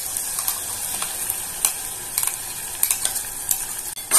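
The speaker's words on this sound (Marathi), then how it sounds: "आपण आता त्याच्यात पालकची पेस्ट टाकून घेतोय" Spinach paste for restaurant-style palak paneer stirred in hot oil, sizzling steadily with soft spoon scrapes, close and even, with no talking.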